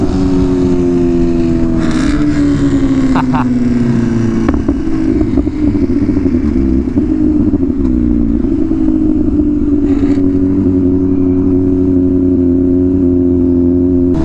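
A Camaro engine revs and accelerates nearby, loud and sustained, its droning tone sliding down then holding steady with some clattering along the way.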